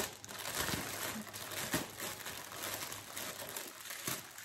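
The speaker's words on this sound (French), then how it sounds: "désolée pour le bruit de papier." Paper crinkling and rustling close to the microphone, a quiet, irregular run of crackles with a few sharper crunches and no talking.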